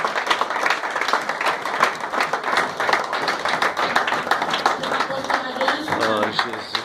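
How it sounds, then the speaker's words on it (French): A church congregation applauds in sustained, energetic clapping that holds steady for several seconds, with a voice briefly rising under the applause near the end. "Au moment où il avance, nous applaudissons le Seigneur."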